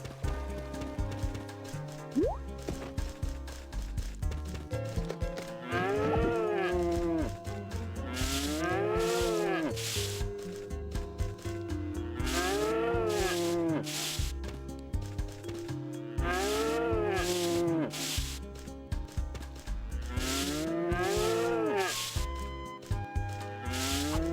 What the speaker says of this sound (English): it is time to harass a cow